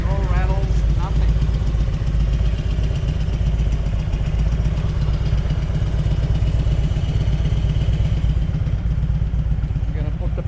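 A 1999 Harley-Davidson FLHRCI Road King Classic idles steadily close by, its low, even engine rumble continuing without break for the whole stretch, with no rattles standing out.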